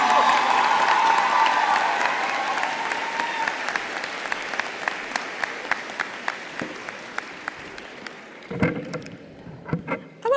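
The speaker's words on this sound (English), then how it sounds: "You can applaud now." Audience at a university social work winter commencement ceremony bursting into loud, dense applause that gradually thins to scattered individual claps, with a brief swell of cheering and voices near the end.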